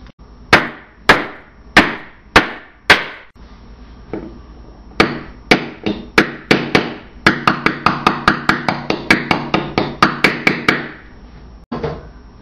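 Tools bash and knock at a wooden dresser to fake cracks and wormholes, first as several slow, loud single strikes, then a quickening run of rapid sharp hits with a few pauses, all close and without talk.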